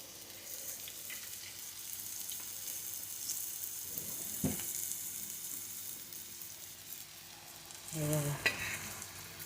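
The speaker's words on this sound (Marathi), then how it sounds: "असे बारीक गॅस करून तळायला." Colocasia leaf vadas frying in oil over a low gas flame, a soft steady sizzle running throughout with a few louder bursts of bubbling near the end, no talking.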